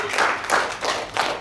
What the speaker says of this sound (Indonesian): tepuk tangan untuk Bu Betty